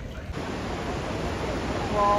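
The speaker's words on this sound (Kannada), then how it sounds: "ಇವಾಗ ಬರಚುಕ್ಕಿ ವಾಟರ್ ಫಾಲ್ಸಿಗೆ ಬಂದಿದ್ದೀವಿ" Steady broadband rush of Barachukki waterfall at Shivanasamudra, a dense continuous roar of falling water that swells slightly louder toward the end, with no voices.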